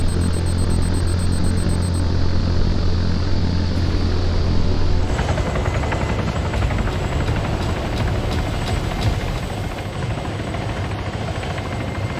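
A military drone flying in the Arma 3 video game, heard as a loud, steady whirring engine drone with a low rumble that continues unbroken throughout.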